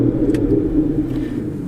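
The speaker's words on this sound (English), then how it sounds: "we are greeted by the wonderful 6-litre V12, which sounds absolutely incredible, even from inside the car" A 6-litre V12 in an Aston Martin Vanquish fires up and settles into a steady low rumble, heard from inside the car, loud and continuous with no talk.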